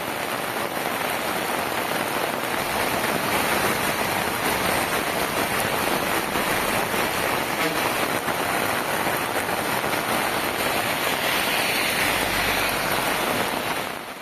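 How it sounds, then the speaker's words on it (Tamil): Steady rain pours down in Tamil Nadu after a spell of scorching heat, a dense unbroken hiss of drops on surfaces that stays loud and constant throughout, with no voices. "இந்த மழை இந்த பகுதியில் தற்போது இப்போ ஒரு குளிர்ச்சியான சூழலை ஏற்படுத்தியிருக்கு"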